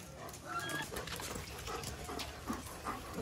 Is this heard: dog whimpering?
yes